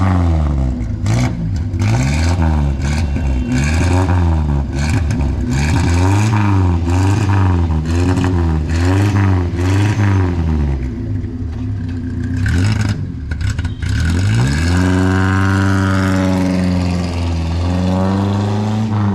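A 1952 Morris Minor four-door with its 0.8-litre 803 cc inline four-cylinder petrol engine runs close up, revving up and down in steady waves, with loud mechanical clatter throughout and no talk.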